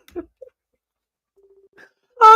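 A phone call being placed: a few faint dialing beeps and a short steady ringback tone sound in near silence, followed by a burst of loud voice at the end.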